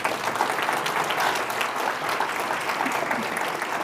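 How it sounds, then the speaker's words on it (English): A summit audience applauds steadily and fairly densely for several seconds, a sustained wash of many hands clapping at an even level. "one more round of applause for them, please"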